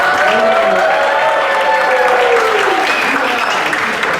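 Applause from a gathered community audience at a church fellowship event, loud close clapping running throughout, with sung or spoken voices carrying clearly over the top.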